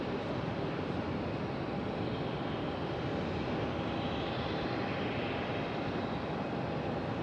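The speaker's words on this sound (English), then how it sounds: "Nice roll out there from Vietnam Airlines" Vietnam Airlines jet rolling out on the runway at Melbourne, a steady distant broadband engine roar, faint and even for the whole stretch with no voices.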